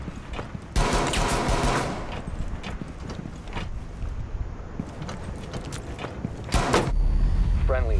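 Bursts of gunfire in a Rainbow Six Siege hostage match, sharp cracks scattered across the clip with a heavier cluster near the start and end, over clattering movement and mechanical noise.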